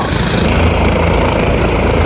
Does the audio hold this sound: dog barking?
no